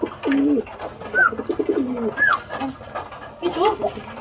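Pigeons coo repeatedly at close range in a feeding setting, with low rolling calls recurring through the clip and a person talking intermittently over them.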